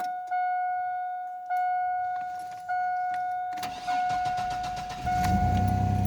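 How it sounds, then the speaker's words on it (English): A Chevrolet S10 Blazer with a 4.3 engine, sitting unused for two years, chimes its dash warning tone in repeated beeps before the starter cranks and the engine catches and idles, close and fairly quiet. "let's go ahead and see if it fires up."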